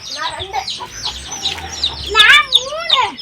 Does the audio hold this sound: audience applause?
no